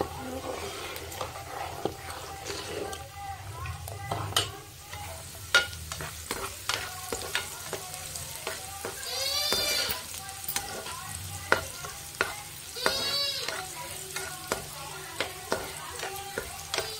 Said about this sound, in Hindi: थोड़ा सा हमें फ्राई करना है और मैंने शुगर ऐड किया है